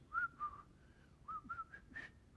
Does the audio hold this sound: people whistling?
yes